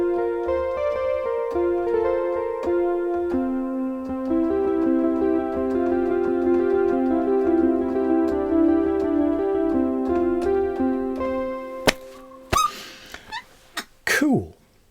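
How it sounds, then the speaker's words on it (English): The Freedom Fries pluck synth preset in the Surge synthesizer plays a steady melodic line of bright, short plucked notes over a low bass tone, close and clear, before it ends in a few abrupt noises. "let's take one of the pluck presets, Freedom Fries, which sounds like this"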